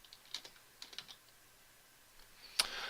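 Rapid bursts of typing on a computer keyboard while entering a node search in a game-engine editor, with quiet pauses between clusters of keystrokes and a louder clatter near the end, close and with no speech.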